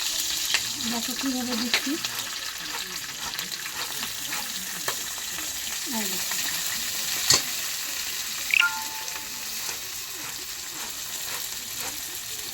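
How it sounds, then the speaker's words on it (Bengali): Green chilies fry in hot oil in a kadai, giving a continuous close sizzle with occasional stirring scrapes and clinks, while someone speaks briefly over the cooking. "কড়াইতে তেল দিয়ে দিয়েছি, দেখো তেলটা তেতে গেছে। এখন এই লঙ্কাগুলো দিয়ে দেবো"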